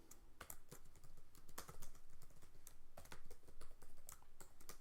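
Code is typed on a computer keyboard in quick, uneven bursts of crisp key clicks, close and steady for several seconds with no talking.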